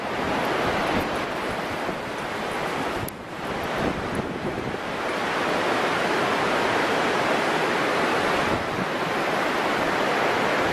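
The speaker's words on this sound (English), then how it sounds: "The sound of the ocean, very calming." Pacific Northwest ocean waves wash onto the shore in a continuous broad roar, with heavy wind buffeting the microphone and only brief dips in intensity.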